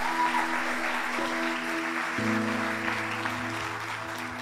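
A church congregation applauds during an Easter-season service, broad clapping beneath sustained organ or keyboard tones that shift pitch midway.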